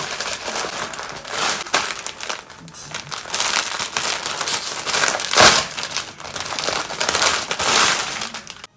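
Packaging crinkles and rustles loudly and close up as a newly delivered saree bought for Saraswati Puja is unwrapped, with irregular bursts of plastic crumpling and tearing throughout.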